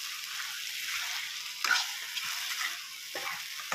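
Meat sizzles in hot oil with a ginger-garlic spice paste, a steady close frying hiss broken by a few brief stirring scrapes and louder pops.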